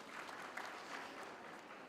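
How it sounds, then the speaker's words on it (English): Applause from a university graduation audience at Walter Sisulu University, a steady, fairly soft wash of clapping that carries on without pause for about two seconds, with no voices over it. "Can we give a round of applause to that stakeholder?"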